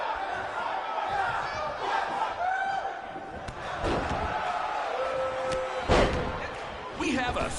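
Arena crowd in WWE 2K19 roaring and cheering continuously, with thumps and slams from the ring and a commentator's voice talking over the noise.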